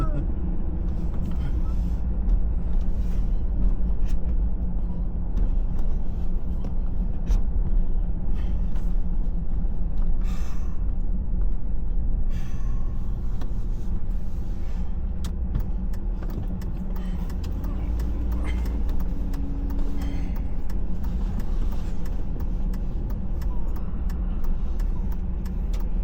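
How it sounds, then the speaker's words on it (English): Steady road traffic at rush hour in Minot, North Dakota, a continuous loud rumble of cars and heavier vehicles passing close by, with a brief air-brake hiss, running the whole time without any pauses. "It's rush hour!"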